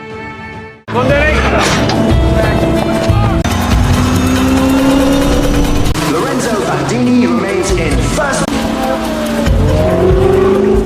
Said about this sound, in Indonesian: Ken dan pembalap dari Ferrari yaitu Bandini, mereka saling beradu kecepatan untuk menunjukkan siapa yang paling cepat di antara kedua mobil tersebut.